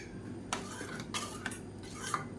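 A spoon scrapes and clinks against a pot while stirring thick black kavuni rice and urad dal porridge, in a few irregular, fairly quiet strokes with no talking.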